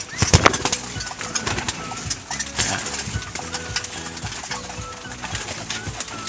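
Pigeons coo steadily among chickens during feeding time, with a dense bed of bird calls, scattered clucks and light scuffling, while faint clip-clop-like knocks and brief voices come and go.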